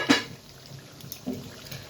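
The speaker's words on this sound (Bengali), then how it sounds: "তো ঢাকনাটা উঠিয়ে দিই।" A metal lid lifts off a cooking pot of duck curry with a brief clink, then a second softer clatter a moment later, quiet and close.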